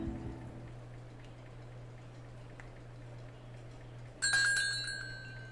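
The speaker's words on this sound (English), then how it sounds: "the bell on the door chimes" A shop's door bell gives a single bright chime near the end in the Fatal Twelve visual novel, ringing out over a quiet low hum that fills the earlier stretch.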